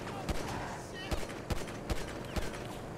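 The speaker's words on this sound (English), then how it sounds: "Let me try to actually shoot his tires." Gunfire in GTA V aimed at a fleeing car's tires: about five sharp, loud shots fired at irregular intervals over a steady background rumble.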